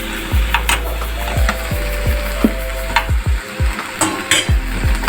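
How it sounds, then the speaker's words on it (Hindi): Chicken and green chilli mixture with ketchup stirred in a hot pan, a spoon knocking the pan in a steady series of sharp taps over a continuous sizzle. "केचप डालने के बाद मैंने इसको अच्छे से मिक्स किया"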